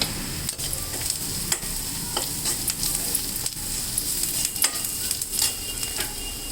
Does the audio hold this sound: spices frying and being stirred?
yes